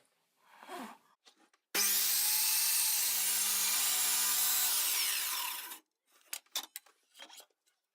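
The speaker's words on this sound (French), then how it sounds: "Je coupe maintenant les deux planches de la base." A long continuous saw stroke rasps through wooden boards for a bike stand base for several seconds, bracketed by quieter knocks and scraping.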